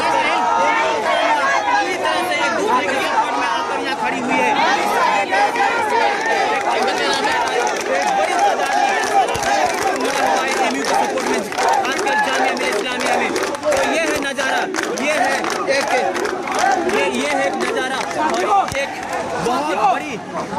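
Huge crowd of marching students chattering and shouting outdoors, a dense continuous babble of many voices at steady loudness, with a nearby voice speaking briefly over it.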